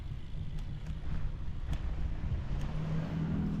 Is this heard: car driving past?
yes